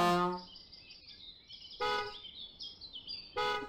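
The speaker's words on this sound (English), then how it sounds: "I'm trying to talk, and you guys are honking the horns." Vehicle horns in the Spin Tires off-road truck game sound in three short, loud blasts spaced over a few seconds, with a faint high warbling tone carrying between them.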